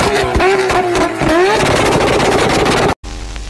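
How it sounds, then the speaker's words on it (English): Exhaust backfire from a car, sharp gunshot-like pops and cracks over a revving engine, with a brief silent gap before a final burst. "Backfire from this car sounds like gunshots."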